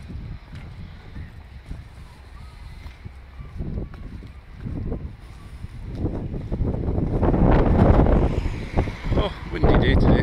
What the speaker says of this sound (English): Oh, windy day today.